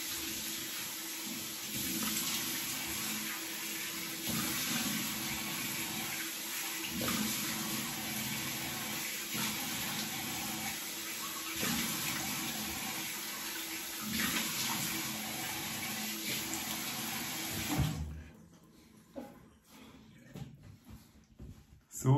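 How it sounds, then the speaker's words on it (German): Cold tap water runs in a steady close rush while someone washes their face after shaving, then stops abruptly near the end, leaving faint splashes and handling noises. "Einmal das Gesicht mit kaltem Wasser waschen"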